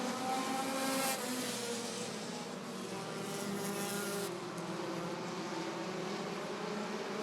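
Race cars at Rockford Speedway in a Bandit feature race, engines droning continuously at mid distance as the pack circles the oval, a steady layered roar with no voices.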